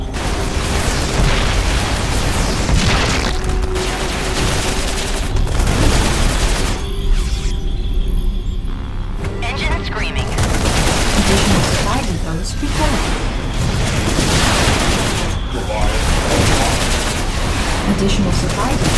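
Constant booms and bursts of gunfire from a StarCraft 2 battle as a base comes under attack, loud and dense throughout, mixed with voices and unit chatter.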